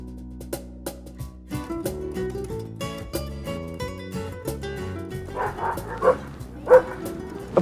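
Alaskan Husky sled dogs at a snowy polar park in Norway bark and yip in a steady, excited chorus, with sharp repeated barks rising near the end over a dense, busy background.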